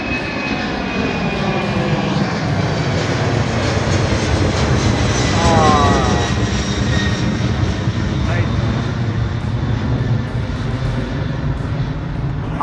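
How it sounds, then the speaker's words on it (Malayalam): A cargo plane takes off on a Caribbean island bound for Miami, its engines a loud, close, sustained roar that swells and slowly shifts pitch as it climbs away. "ഇവിടെ നിന്ന് മയാമിയിലേക്ക് പോകുന്ന ഒരു കാർഗോ വിമാനമാണത്"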